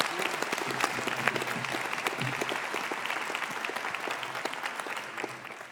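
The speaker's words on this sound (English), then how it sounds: "let's give them a big applause for the parents" Audience applause at a Royal College of Surgeons in Ireland graduation conferring ceremony, a dense, steady wash of many hands clapping that holds evenly for several seconds with no voices on top.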